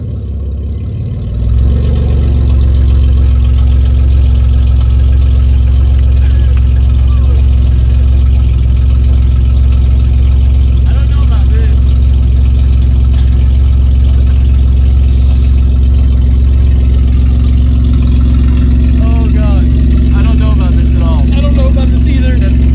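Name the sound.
Honda Accord engine running with no exhaust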